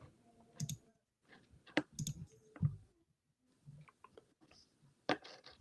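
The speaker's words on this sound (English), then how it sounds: "I'm clicking on all the wrong stuff." A computer mouse clicks in scattered sharp taps with irregular pauses, close and fairly quiet, amid faint rustling in a live sports broadcast studio.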